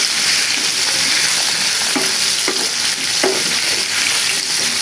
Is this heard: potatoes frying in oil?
yes